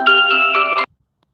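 A phone ringtone chimes loudly and close during a live video, a short electronic tonal burst lasting under a second that stops abruptly into silence.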